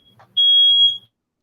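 A smoke alarm lets out a single loud, piercing high-pitched beep lasting about two-thirds of a second, preceded by faint low murmurs and followed by silence.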